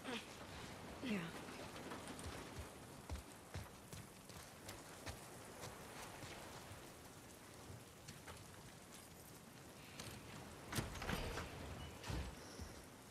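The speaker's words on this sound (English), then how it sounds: "Get out of the rain." Steady rain falling in the video game The Last of Us Part II, a dense even patter with occasional louder drops and a faint low rumble, heard quietly on its own.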